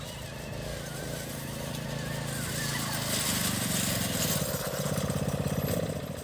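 A small go-kart engine runs steadily and fairly loud throughout, with a continuous buzzing drone that rises slightly in pace toward the end.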